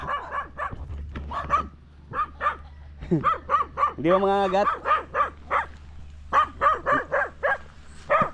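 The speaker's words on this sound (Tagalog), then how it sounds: "Daming aso guys." Several dogs bark repeatedly in quick, yappy bursts nearby, with one long howl-like whine in the middle, while a person speaks briefly.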